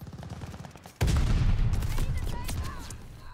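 Close, loud burst of rapid gunfire from the Call of Duty: Vanguard shooter video game erupts suddenly after a quiet opening, with dense overlapping shots continuing to the end.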